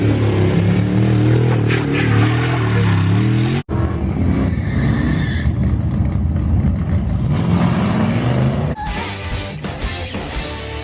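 Stock 318 two-barrel small-block Mopar V8 fitted with headers and dual exhaust, a loud steady low rumble that shifts in pitch midway, then settles into a rougher idle-like burble near the end, with no talk.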